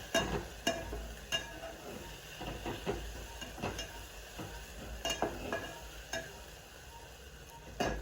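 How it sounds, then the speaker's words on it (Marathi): Spiced masale bhat rice being sautéed with salt and garam masala in a pan: a soft continuous sizzle with scattered spoon scrapes and clinks against the pan, fairly quiet and close, no talk. "आणि चवीनुसार मीठ घालायचं आहे आपल्याला आणि छान असं परतून घ्यायचं"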